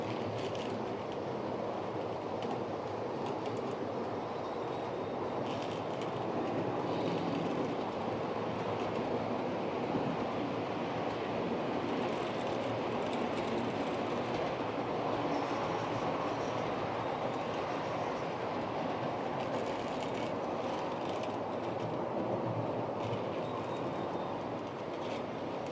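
A train rumbles steadily along the rails for the whole stretch, a continuous loud roar with faint clattering, no voices.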